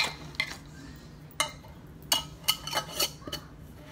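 A lidded container is shaken by hand, its contents clattering in a few quick, sharp bursts of rattling and clinking over a quiet background.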